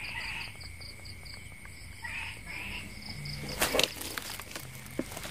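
Small frogs call at night in the rainy season in Vietnam's Mekong Delta region, giving faint, rhythmic pulsed croaks amid insect chirping, with brief nearby handling noises.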